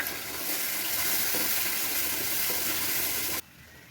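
Water is poured into atta roasting in a hot pan for halwa, giving a loud, close, continuous sizzling hiss that holds steady for several seconds before stopping sharply.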